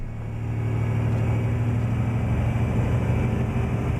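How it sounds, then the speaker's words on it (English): A steady, low droning engine of a Volvo F-Max truck in Euro Truck Simulator 2 idles and hums continuously, a deep rumble with no talking. "this F-Max is so noisy compared to standard ETS2 trucks"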